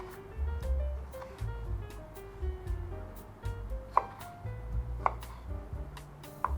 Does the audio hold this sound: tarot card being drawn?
no